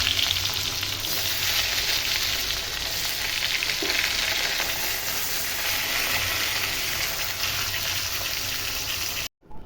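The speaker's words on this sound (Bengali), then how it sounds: "মাছগুলোতে হলুদ লবণ মাখিয়ে নিয়েছি, এখন ভাজা হবে।" Turmeric- and salt-rubbed fish fries in hot oil with a loud, dense, continuous sizzle and crackle. The sound is close and steady, with no voices, until it cuts out abruptly at the end.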